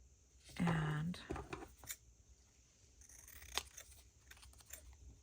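Scissors trim a decorative lace tag in a few quiet snips and crisp paper cuts, a firmer cut early on and lighter clips later, with faint rustling and a soft voice low in the background.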